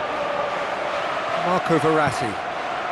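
A steady stadium crowd roar during a PES 2016 football match between Paris Saint-Germain and AC Milan, constant broad murmur with a commentator's voice talking over it.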